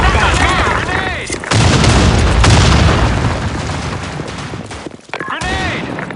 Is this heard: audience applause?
no